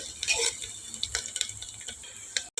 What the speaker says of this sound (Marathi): कांदा आपल्याला यामध्ये छान परतवून घ्यायचा आहे